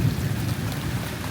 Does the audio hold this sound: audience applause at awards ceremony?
no